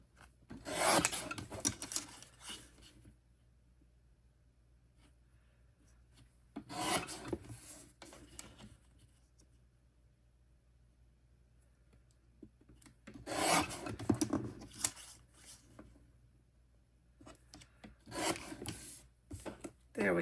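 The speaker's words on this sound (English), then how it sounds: "So I'm going to pull out my little small trimmer" A small paper trimmer slices through cardstock in four separate rasping passes, each a quick scraping cut lasting a second or two, close and fairly quiet, with near silence between strokes.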